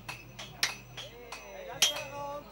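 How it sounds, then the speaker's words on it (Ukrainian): Blacksmith's hammer striking hot metal at an outdoor forging festival, a handful of sharp, ringing clanks at an uneven pace, each with a bright metallic ring, over a low background hum. "озброївшись молотом"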